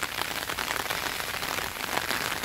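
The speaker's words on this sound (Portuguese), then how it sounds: "Esse aqui realmente é o melhor fertilizante natural para o seu jardim, que é a chuva." Steady rain pours on a home garden in Brazil's Northeast, a dense, even hiss of drops striking leaves and ground with no pauses and no voices.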